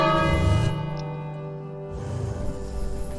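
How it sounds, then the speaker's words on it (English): A bell rings in the King's Quest video game, heard as a sustained, resonant tone with a long ringing decay that fades into steady background game audio, fairly loud and with no voices. "And then you ring the bell"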